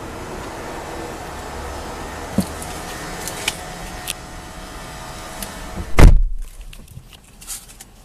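The door of a 2007 Mercedes-Benz GL450 SUV shuts with a single solid, close thunk after a few faint clicks and rustles, and the cabin goes quiet afterward.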